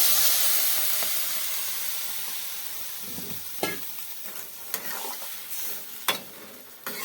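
Bitter gourd curry with mustard and lentil dumplings hisses and sputters loudly in the pan as water goes in, the steam fading gradually, followed by several sharp clanks and scrapes of stirring.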